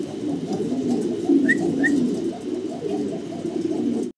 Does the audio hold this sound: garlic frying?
no